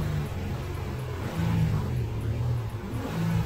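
Car engine revved to about 3,000 RPM during an alternator output test, a steady rumbling drone that rises in pitch partway through, close and continuous with no talk.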